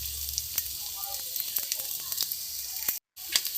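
Onion frying in oil for kuska sizzles close and steady, with a low rumble at first and scattered crackles and light stirring scrapes throughout. A short silent gap falls near the end.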